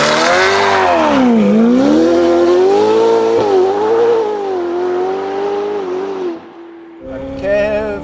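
A Novitec-tuned Ferrari F8 Tributo engine revs loudly and close, its pitch sweeping up and down through several pulls before dropping off briefly, then roaring back with another short rev.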